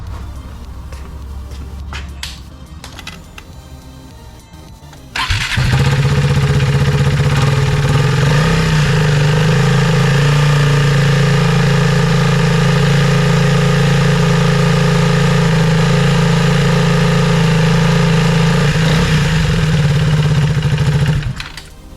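A KTM RC 390 motorcycle engine cranks and fires after a few quiet seconds, then settles into a loud, steady single-cylinder idle that runs on before cutting off at the end.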